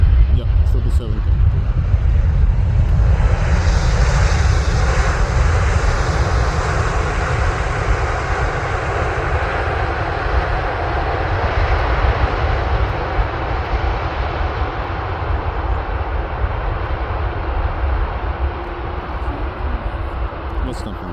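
Emirates Cargo Boeing 777 landing at Amsterdam airport, a loud steady jet engine roar filling the whole stretch with a broad rumble, while people talk over it nearby.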